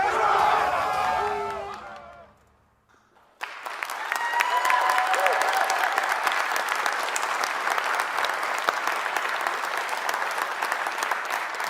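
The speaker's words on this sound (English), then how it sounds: "a well-deserved round of applause" Steady applause from a large crowd at the Pittsburgh Steelers Hall of Honor announcement, starting after a brief quiet and continuing densely, with some voices mixed in.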